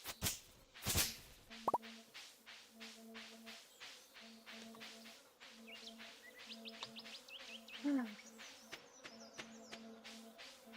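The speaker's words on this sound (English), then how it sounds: "I still can't get over the fact that there are bee sounds." Bees buzz in Stardew Valley's springtime farm ambience: a low, faint drone that comes and goes in short repeated bursts over soft plops, chirps and light rhythmic ticking.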